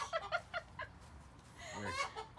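Chickens cluck in a coop in a quick run of short calls, followed by a longer, drawn-out squawk near the end.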